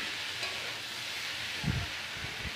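Tomato stirred into a sizzling Bengali vegetable curry with potato and fish in hot oil, a steady frying hiss with a few soft scraping stirs near the end, no voices.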